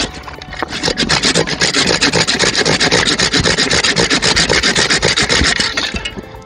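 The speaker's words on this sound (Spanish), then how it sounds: "Que acá podemos ver el corte con serrucho." Hand saw cutting through a peach tree branch during pruning, a steady run of rapid rasping strokes, close and loud, continuing for several seconds with no talk.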